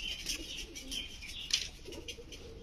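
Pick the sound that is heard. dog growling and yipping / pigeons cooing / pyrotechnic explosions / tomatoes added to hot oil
pigeons cooing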